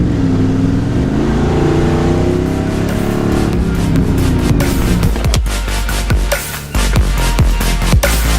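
Car pulling away on the road with a loud, rising engine note that shifts through gears, followed by clicks and bumps as it drives on.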